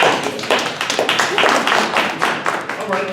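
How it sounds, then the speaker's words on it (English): Applause breaks out at a panel event, a brief burst of clapping from an audience filling the room, loud and close for a few seconds. "Let's do a round of applause."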